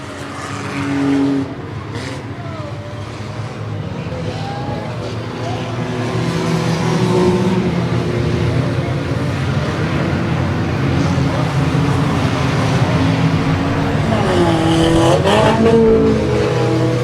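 Race cars roar around an oval track during an enduro race, engines droning continuously with rising intensity, occasional tire squeal and passing cars heard from a distance, loud and steady throughout.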